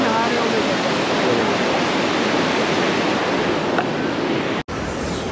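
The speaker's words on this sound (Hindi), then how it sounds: "पानी का फ्लो कितना तेज है भाई यहाँ से, कितना तेज हो रहा है" Fast-flowing river water rushes loudly and steadily near the hot spring at Manikaran, a dense continuous roar with no let-up, briefly cut off just before the end.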